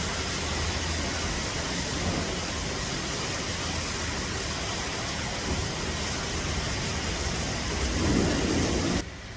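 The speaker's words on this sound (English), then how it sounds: "It's raining though." Steady rain pours outdoors at a mountain shelter area on the Appalachian Trail in cold weather, a dense constant hiss with low thunder rumbling beneath, swelling near the end before cutting off abruptly.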